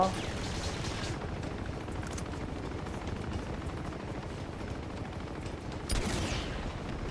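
Launcher blast erupts in Uncharted 2: Among Thieves gameplay, a dense roar of explosive and gunfire-like noise that continues throughout, with a sharper burst near the end.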